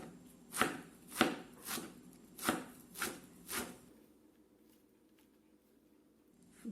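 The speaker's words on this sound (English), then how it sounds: "To chop the leaves, I like to stack them up together and roll them." A sharp knife slices through rolled, stacked spinach leaves on a board, six crisp, evenly spaced chops close to the mic, followed by quiet.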